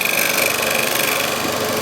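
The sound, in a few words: carbide-tipped tool scraping on a lathe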